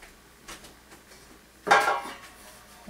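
Shaped bread loaf placed into a metal loaf pan, a single clattering metallic knock with a short rattle, close and alone after faint handling sounds.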